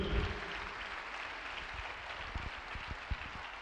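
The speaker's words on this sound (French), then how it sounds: "Let's clap again for them." A church audience claps together in a sustained, dense patter of applause, steady and fairly loud throughout, with a few sharper individual claps standing out near the end.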